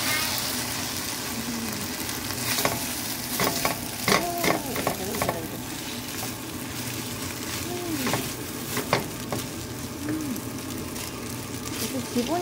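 Cooked pasta noodles stirred in oil in a pan, a steady low sizzle under scraping and clacking stir strokes with occasional sharper clinks, close and continuous for several seconds.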